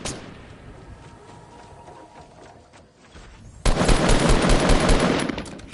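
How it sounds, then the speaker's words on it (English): Rapid automatic gunfire in the video game Fortnite, first distant and muffled, then a loud, sustained close burst for the final two seconds. "I thought somebody was shooting us from behind"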